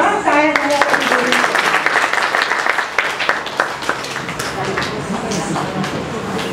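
Audience at a children's drama performance breaks into loud applause, dense clapping filling the room throughout, tapering slightly toward the end, with some voices mixed in.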